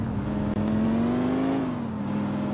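Car engine in Grand Theft Auto 4 held at a steady drone, rising slightly in pitch as the car accelerates and then easing off, loud and continuous with no talking.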